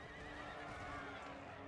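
Cavalry horses whinny amid the clatter of hooves in a battle in the video game Empire Total War, a busy mid-distance din with faint voices mixed into the fray.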